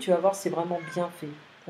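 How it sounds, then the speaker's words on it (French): A pet cat meows several times in quick succession, close and fairly loud, while a person speaks French over it. "c'est mon chat, ne t'inquiète pas"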